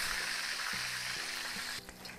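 Chicken pieces in a second deep-frying pass in hot oil for Chinese-style crispy lemon chicken, giving a steady, close, dense sizzle and crackle with faint clinks, no talk.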